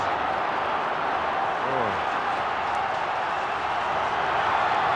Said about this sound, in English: Crowd really lifting here, urging West Coast on